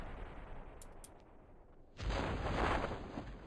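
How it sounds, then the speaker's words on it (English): Rocket blowing up in Kerbal Space Program: after a quieter stretch with a couple of faint clicks, a sudden loud broadband blast erupts and rumbles on steadily to the end, with no talk. "another explosion"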